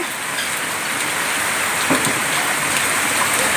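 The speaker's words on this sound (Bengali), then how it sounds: "প্রচণ্ড বৃষ্টি আর বৃষ্টির সাথে সাথে বাতাসটা অনেক জোরে বইছে" Heavy rain pours down steadily in strong wind during Cyclone Remal, a dense, unbroken hiss of drops striking surfaces, close and loud, with no voices.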